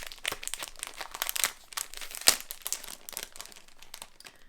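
Plastic Ziploc packaging holding vintage stockings being opened and handled, with close, continuous crinkling and rustling and a few sharper crackles.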